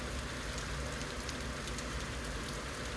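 Steady rain falls during a thunderstorm, a dense continuous hiss of drops on surfaces, close and even throughout with no voices.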